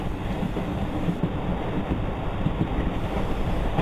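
A passenger train runs on tracks between Mysore and Bangalore, its steady, loud rumble and clatter filling the space continuously and close by, with no voices.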